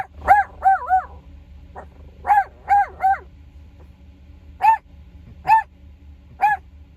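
A dog near a car barks in short bursts, first in quick pairs and triples and then in single spaced barks, loud and close inside a quiet cabin, with no talk over it.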